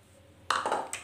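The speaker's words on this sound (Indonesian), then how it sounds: "Dan jangan lupa kita tambah air." Water pouring onto peeled garlic, shallots and ginger in a blender jar, a sudden splashing gush that starts abruptly and carries on for about half a second, close and fairly clear, with no talking.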